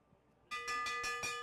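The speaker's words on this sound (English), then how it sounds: "They're going to hear the bell on the next lap." A bell clangs rapidly and repeatedly at a track cycling race, signalling the final lap; bright ringing strikes arrive in a quick steady series after a moment of near silence.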